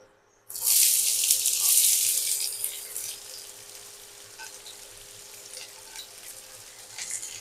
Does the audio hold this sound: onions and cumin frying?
yes